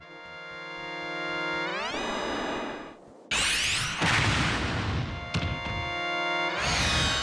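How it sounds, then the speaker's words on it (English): Synthetic retro game tones from the original F-Zero, as racers pull up to the start line: steady buzzy chords rise in pitch, then a burst of harsh noisy engine-like roar, with tonal chords returning at the end. "the sound of the racers pulling up to the start of the racetrack in the original F-Zero"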